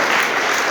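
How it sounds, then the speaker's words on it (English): A room full of people claps in a dense, even burst of applause for prize winners at a school prize distribution, loud and close throughout the short moment. "please give a huge round of applause for all the position holders"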